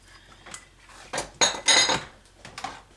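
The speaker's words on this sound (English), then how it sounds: "I'm just going to give this a good stir." A spoon scrapes and clanks against a pot while stirring mushrooms, onion and salt for a crockpot pasta dinner, a few irregular metallic bursts over quiet background, close by and without talking.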